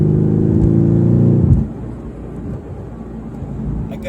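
A 2018 Mercedes-AMG GT R's exhaust roars loudly as the engine revs hard for about a second and a half, then drops off to a low idling burble with a faint rise near the end, heard from inside the car.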